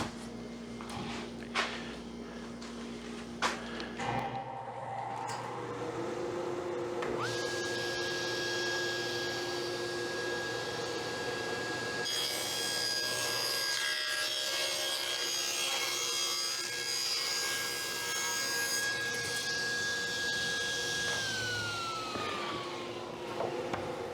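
Table saw cutting through plywood, a motor spinning up and then a long, loud whining cut with a steady pitch that winds down at the end, close by and free of talk.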